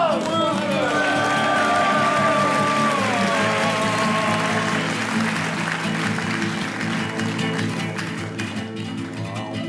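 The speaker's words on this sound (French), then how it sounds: "Applaudissements." Audience applause fills a flamenco ping-pong comedy show by Paul Morocco and Guillermo de Endaya, a dense steady clapping roar from a crowd with some musical tones at first, holding loud throughout and easing slightly at the end.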